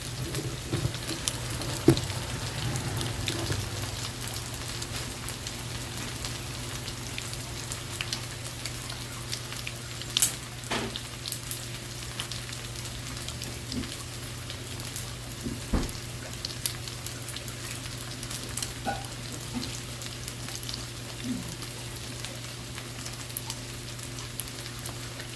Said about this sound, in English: I'm gonna run the bacon and stuff in.